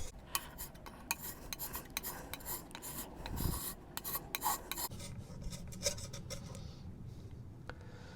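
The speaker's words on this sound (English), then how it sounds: "So we end up with lumps of glue coming off like that." Softened glue residue being peeled and lifted off a surface, heard as close, irregular scraping and rasping with a few sharper scuffs and no talk.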